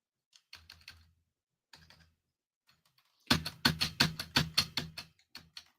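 Keys clatter on a computer keyboard that may need new batteries, with short bursts of clicks, a pause, then a fast, louder run of keystrokes up close, no talking.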